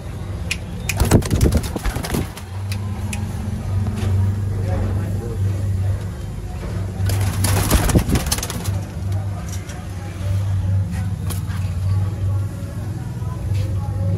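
Sialkoti pigeons coo in low, repeated throaty calls close by, with sharp wingbeat flutters and handling noise in bursts and steady background hum throughout.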